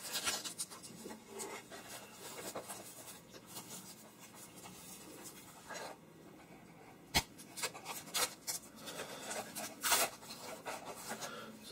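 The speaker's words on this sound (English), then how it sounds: "It's all taped up, and just carefully cut that open." A hobby knife slicing through packing tape on a boxed Hobby Boss IL-2 model aircraft kit, giving close scratchy rasping and rubbing strokes with a few sharper clicks and snaps, and no voices.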